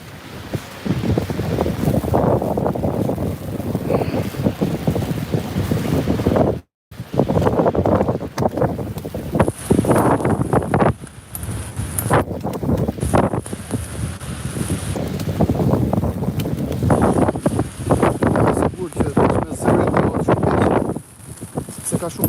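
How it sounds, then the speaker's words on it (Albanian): Strong headwind roars against the microphone in a snowstorm, a loud continuous buffeting with gusts, while someone talks intermittently underneath and a brief dropout breaks it partway through. "po eci në krahun ballor të erës"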